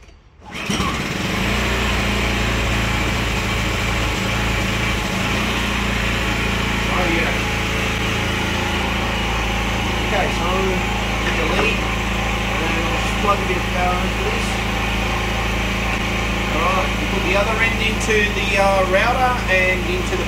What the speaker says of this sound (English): What I might do, I'll hook up the generator.